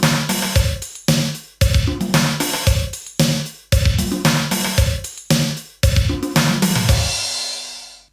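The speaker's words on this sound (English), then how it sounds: "The ultimate 80s thing to do was to hit the LinnDrum into a gated reverb" A LinnDrum drum machine fed through gated reverb, the classic 1980s sound: punchy drum hits in a steady pattern, each with a big burst of reverb that cuts off abruptly, ending on a sustained crash-like wash.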